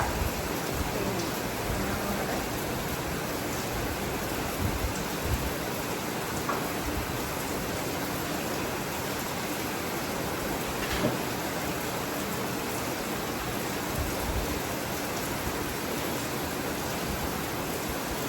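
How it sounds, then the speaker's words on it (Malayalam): Heavy rain pours steadily, a dense continuous hiss of drops with no pauses, close and fairly loud throughout. "നല്ല സൂപ്പർ മഴ"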